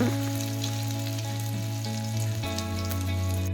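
Crushed garlic and ginger fry in hot oil in a wok, giving a steady, close sizzle that holds unbroken throughout, with a low hum underneath and no voices.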